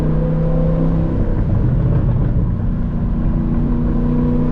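A 668 hp Cadillac CT5-V Blackwing engine rumbles and revs in a deep, loud, steady drone heard from inside the car, the tone shifting slightly as it pulls.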